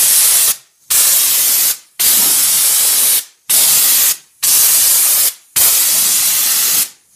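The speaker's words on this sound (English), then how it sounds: "Just going to spray it." Bar and chain oil used as undercoating is sprayed from an air sprayer at about 80 PSI, loud steady hissing bursts broken by brief pauses, roughly six sprays in a row.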